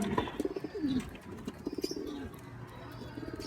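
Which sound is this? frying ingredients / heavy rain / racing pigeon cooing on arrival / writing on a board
racing pigeon cooing on arrival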